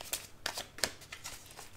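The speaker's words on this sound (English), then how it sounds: "I'm being told to give it a good shuffle." Tarot cards being shuffled by hand, heard as a quick run of soft papery riffles and flicks close by, faint and alone.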